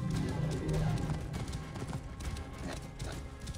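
Horse hooves clopping at a riding pace in Assassin's Creed Origins while heading into a sandstorm, a steady rhythmic gallop under loud wind and game ambience, with someone speaking over it.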